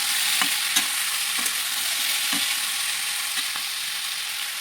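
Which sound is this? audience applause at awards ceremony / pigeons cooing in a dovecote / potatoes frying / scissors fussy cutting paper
potatoes frying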